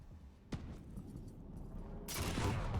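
In a Quake duel match, a sharp rocket launcher shot cracks out early, followed by a louder burst of explosive noise and game mechanics rumbling near the end.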